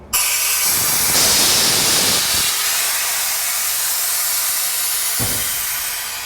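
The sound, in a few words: air hissing from opened valve on DeRobo saw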